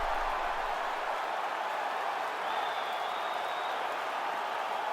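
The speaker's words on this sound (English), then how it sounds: "So the crowd voicing its appreciation after that round." A crowd in the EA Sports UFC 5 video game applauds and cheers after a fight round, a dense, continuous wash of clapping and crowd noise at steady level.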